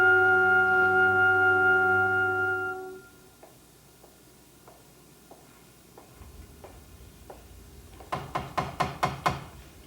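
Knocking on a door in a TV drama scene: a quick burst of about five or six sharp raps near the end, after a fading music chord and soft, sparse ticking.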